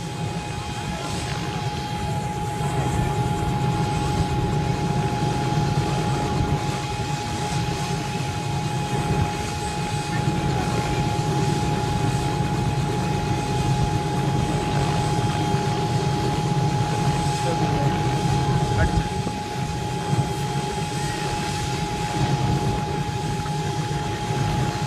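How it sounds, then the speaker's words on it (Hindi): Helicopter carrying a bride and groom, coming in to land before a large crowd at a village wedding in Barmer: a steady loud droning rotor and engine roar holds throughout, with faint crowd voices beneath it. "अब आप देख सकते हैं कि दूल्हा और दुल्हन को हेलीकॉप्टर से नीचे उतारने की तैयारी"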